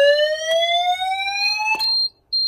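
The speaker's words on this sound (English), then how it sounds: "turn silence off until you hear the siren, and then back on" A fire alarm siren set off during a remote monthly fire panel test sweeps steadily upward in pitch, loud and close, then cuts out briefly before sounding again at the end.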